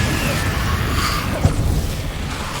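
Confringo blasting spell from Hogwarts Legacy detonates as a dull low boom with a short pop over a rumbling game background, a single impact near the middle of the clip.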